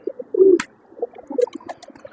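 Pigeons at a loft or rural pen cooing, one loud close coo followed by softer scattered coos and rustling, no talk.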